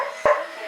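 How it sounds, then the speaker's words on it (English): A single short, sharp dog bark indoors, aimed at a neighbour's contractor, with faint household background around it. "They're just barking at the neighbor's contractor."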